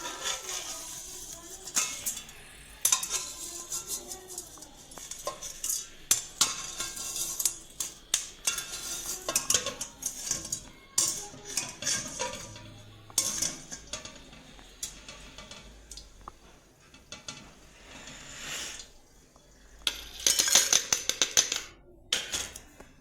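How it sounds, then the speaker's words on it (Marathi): Fried bitter gourd chips being moved onto a plate, a long run of sharp, irregular clicks and clinks of a utensil against metal and crockery, close and dry, with no talk. "आता आपण यांना एका प्लेटमध्ये काढून घेऊ"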